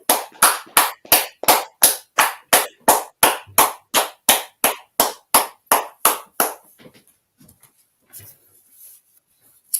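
Around twenty crisp, evenly spaced claps ring out in a steady rhythm at the close of a class session, then stop, leaving faint scattered noises.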